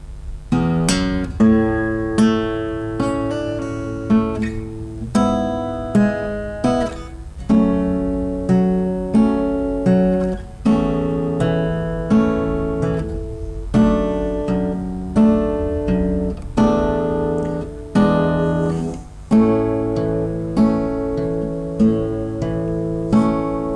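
Acoustic guitar fingerpicks the main section of a song slowly, with a steady sequence of ringing plucked notes and chords over about twenty seconds, close and unaccompanied.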